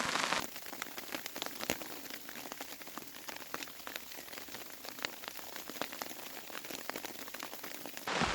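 Hail pelting an ultralight Six Moon Haven tarp tent in snowy conditions, a dense, steady patter of countless small impacts on fabric that holds unbroken for several seconds, with no voices.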